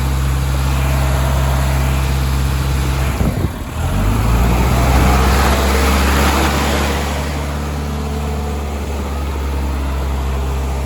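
A JLG SkyTrak 8042 telehandler engine roars steadily and loud at close range with a deep, sustained drone while its tires spin in a big pile of dirt, surging briefly partway through.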